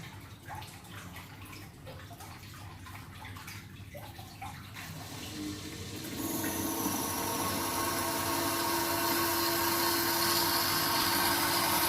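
A D-D Reef Pro 900 aquarium unit draws in water, a low rumbling hum that swells into a louder, steady rushing fill, with no one talking.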